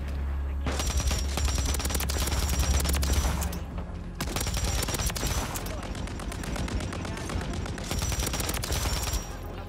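Light machine gun fire in Call of Duty MW3, a Pulemyot 762 LMG, rattling in loud sustained bursts with a few short pauses, dense and continuous across the whole stretch.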